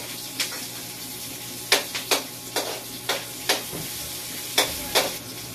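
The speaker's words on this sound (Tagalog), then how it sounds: "Igisa natin." Food sautéed in a hot pan with lemongrass, giving a steady sizzle broken by a series of sharp scraping stirs at an irregular rhythm, close and alone without talk.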